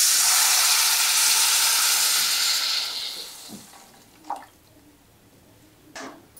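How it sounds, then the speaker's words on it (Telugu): Water poured into a hot pan of fried masala for Maggi noodles hisses and sizzles loudly at first, then the steam dies down to quiet bubbling with a couple of faint drips and taps. "మ్యాగీ ఉడికించుకోవడానికి సరిపడా వాటర్ పోసుకుందాం"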